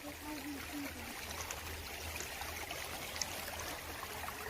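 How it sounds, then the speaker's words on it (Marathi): Canal water released from Dhom dam flowing steadily, a faint continuous rushing wash heard from nearby outdoors without any talk. "कॅनल बी सुटलेला आहे धोम धरणाचा"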